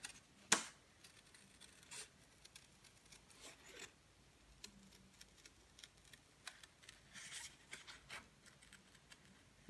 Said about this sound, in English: all I need to do is cut the heart out